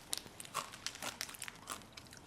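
Crunchy bacon-flavoured monster noodle snack being eaten, a series of quiet, sharp crunches and bites in an irregular rhythm, close and soft.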